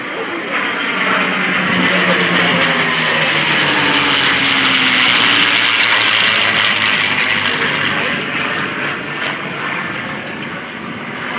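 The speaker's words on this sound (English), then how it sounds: "let you listen to the sound of these Merlin engines" P-51 Mustangs with Merlin engines pass overhead at an air show, a loud sustained propeller-engine roar that swells as the planes approach and fades slightly as they move away.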